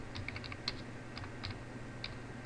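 Soft, close keystrokes on a computer keyboard, typing text in irregular short bursts over a faint background hum.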